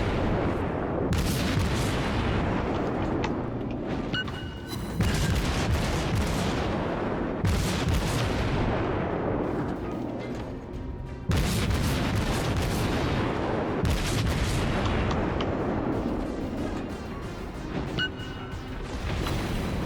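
Heavy warship gunfire in the naval combat game World of Warships, with loud booming salvos repeating every few seconds over a continuous roar of battle.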